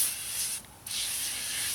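Wheel cleaner sprayed onto a car wheel, a soft, close hiss that runs steadily, breaks off briefly and then resumes.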